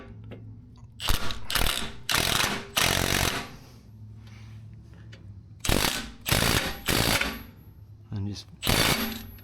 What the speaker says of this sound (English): then you can take your impact gun